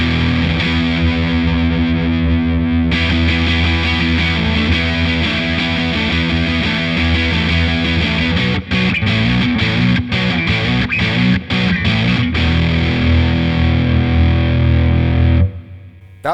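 An electric guitar with a single-coil pickup through a Wampler Sovereign distortion pedal plays thick, heavily saturated chords, sustained then chugging in choppy rhythmic stabs, loud and alone before ringing out.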